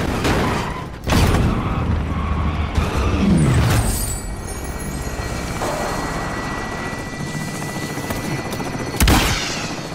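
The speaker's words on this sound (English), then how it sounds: "I called in the chopper." A helicopter called in during a video game heist, its rotor and engine loud and continuous, with booms and bursts of gunfire punctuating the racket.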